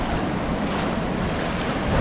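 Ocean swell breaking as surf at Little Gibber beach, a steady broadband wash of waves with some wind buffeting the microphone, loud and continuous with no voices.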